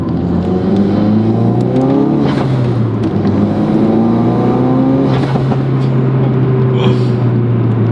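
A tuned 415 hp Ford Focus RS, its engine loud and close. The turbo spools and builds with rising whines, then blows off in hissing puffs, with steady drivetrain drone throughout.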